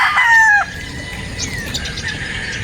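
Gamecock roosters crowing on a game farm in Batangas, one clear close crow at the start followed by fainter clucks and distant crowing.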